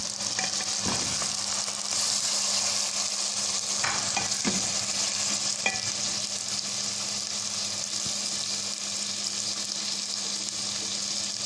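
Chicken fries over medium heat with spices for Lahori murgh cholay, a dense steady sizzle close by, punctuated by scattered scraping stirs of a spoon against the pan, without speech.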